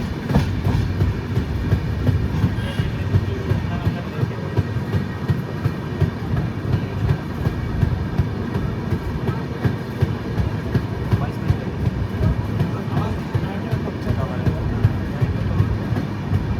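A passenger train rolls into Sevagram station platform, its wheels giving a continuous loud clickety-clack and rumble over the rails, with a voice faintly audible over the noise.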